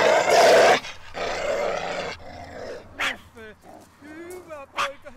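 A dog barks and growls in loud, close bursts, followed by shorter yips and whimpering sounds amid brief speech.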